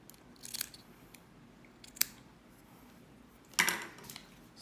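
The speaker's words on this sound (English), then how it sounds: "trim it down just a little bit more" Scissors snip cotton wick on a Vandy Vape Kensei 24 RTA, three or four short crisp cuts spaced apart, close up and quiet with no talking.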